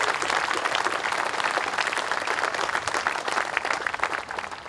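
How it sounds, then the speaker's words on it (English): Audience applause at an outdoor Memorial Day service on Academy Hill in Stratford, a steady dense crackle of many hands clapping that holds at an even level without voices. "So let's give them all a round of applause."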